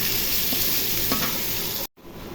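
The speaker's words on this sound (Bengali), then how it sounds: "পেঁয়াজ কিছুক্ষণ ভেজে নিব।" Onions frying in hot oil produce a loud, dense sizzle with a couple of stirring scrapes, broken by a sudden brief cut before the sizzle resumes.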